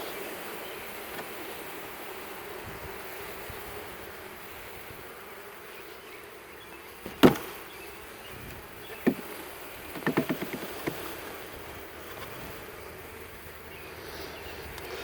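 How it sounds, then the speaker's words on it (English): A soft, continuous buzz of honey bees hums in the background while mini mating nucs are stocked, with a few sharp knocks and clicks breaking through nearby. "So we got a few bees in there"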